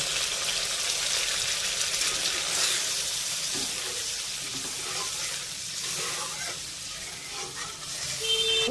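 Kakrol curry gravy with warm water comes to a boil in a pan, giving a continuous close hiss of bubbling and sizzling with soft stirring knocks and no voices.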